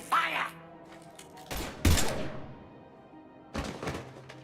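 Gunfire bursts from the video game Mass Effect 3, a few separate heavy thudding shots spread over several seconds with quiet gaps between them, no talk alongside.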